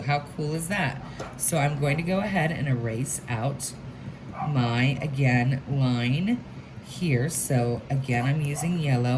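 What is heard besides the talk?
No everyday noises stand out.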